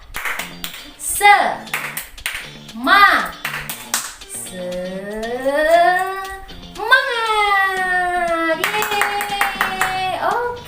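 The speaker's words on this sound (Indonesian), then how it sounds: "Tepuk tangan dulu buat yang luar biasa" A class of third-grade children claps along in a rhythmic cheer led by their teacher, bursts of clapping mixed with her sung, drawn-out voice and the kids' shouts.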